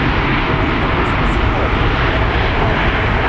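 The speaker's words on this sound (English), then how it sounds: "max braking and reverse thrust to get off that runway quickly" An airliner landing under maximum braking with reverse thrust, heard as a loud, steady, dense roar of engine noise that fills the whole stretch without letting up.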